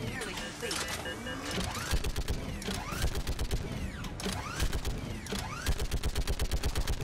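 Rapid, rhythmic bursts of mounted turret fire in Mass Effect 3 run continuously up close, with mechanical whirring and clanking woven through and a voice talking over the shooting.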